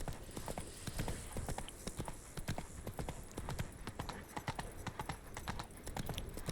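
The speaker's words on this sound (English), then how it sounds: "I love how the noises of the horses'" Horse hooves clip-clop at a steady trot in the video game The Witcher 3, rhythmic and fairly close over an ambient background.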